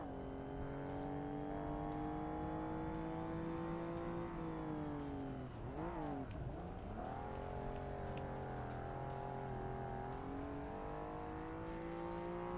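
A race car in Forza Motorsport drones at steady high revs, dipping sharply as it brakes and shifts around the middle before climbing again, with faint tire noise and no talking.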